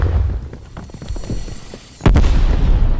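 A Semtex grenade detonating in the video game Black Ops Cold War, one loud deep blast after a stretch of scattered gunfire and clatter, the rumble lingering afterward.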